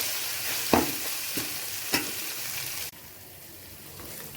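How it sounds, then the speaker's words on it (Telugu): Biryani masala and garam masala fry in a hot pan with a soft sizzle, broken by a few close scraping stirs before the frying dies down. "ఇది కొంచెం ఫ్రై అవనిద్దాం."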